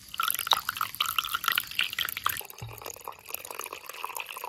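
Water from a young coconut being drained and poured out: a steady trickling and dripping of liquid, close and continuous, with a brief low thud partway through.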